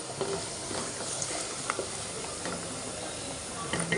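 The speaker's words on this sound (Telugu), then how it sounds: "ఆనియన్స్ కూడా బాగా ఫ్రై అవ్వాలి." Onions sizzle steadily in a pan while tomato rice is cooked at home, a continuous close frying hiss with occasional soft pops and faint stirring clicks, no voices.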